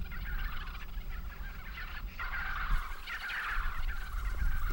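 Bald-headed cinereous vultures give low gobbling, grunting calls from a wintering flock in Korea, a continuous rough chorus close by with no talking.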